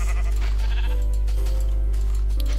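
Sheep bleating in the video game Minecraft, a clear wavering bleat over a constant loud low hum, followed by a second fainter bleat near the end, with no talking.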